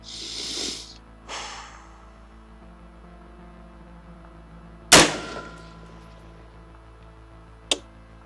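One sharp, loud rifle shot cracks out in an open outdoor setting from a rifle fitted with a Zerotech Vengeance 1-6x24 LPVO scope. Quiet breathing comes before it, and a faint distant tick of impact follows a few seconds later.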